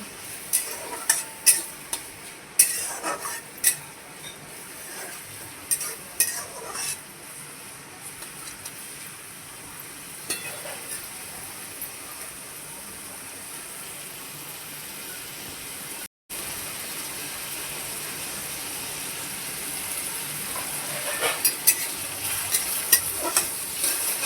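Chopped onion frying and being stirred in a pan while cooking butter paneer cheese kheema, a steady close sizzle broken by scraping stir strokes and occasional utensil clicks, with no talking.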